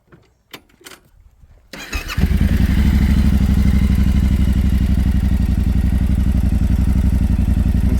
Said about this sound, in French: Du coup, tu peux allumer le moteur?